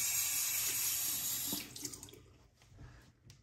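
A bathroom tap runs close and loud to wet a shaving razor, a steady hiss of water that breaks off partway through into fainter drips and small splashes.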